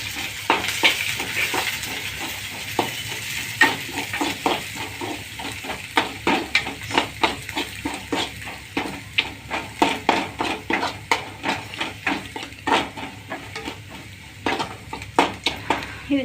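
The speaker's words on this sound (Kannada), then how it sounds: "ಸ್ವಲ್ಪ ಎಣ್ಣೆ ಒಳಗೆ ಫ್ರೈ ಆಗಲಿವು. ಹಂಗೆ ಈಗ ಸ್ವಲ್ಪ ಉಳ್ಳಾಗಡ್ಡಿ ಹಾಕೋತಾನೆ." Onions fry in oil with curry leaves in a pan for a gobi manchurian, a steady sizzle broken by a rhythmic series of spoon scrapes and clacks against the pan as they are stirred.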